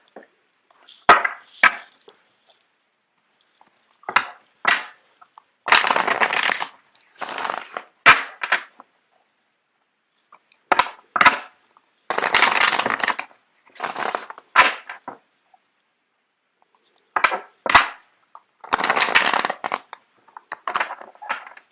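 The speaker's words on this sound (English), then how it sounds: "I'm going to shuffle out the cards for you guys." Tarot cards are shuffled in repeated short bursts of riffling and flapping, separated by brief pauses, close and fairly loud.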